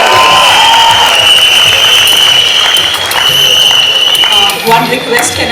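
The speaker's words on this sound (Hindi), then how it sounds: "तालियां बजती रहनी चाहिए।" A college event audience claps and cheers loudly and continuously, a dense wash of applause with a whistle-like tone and crowd voices mixed in throughout.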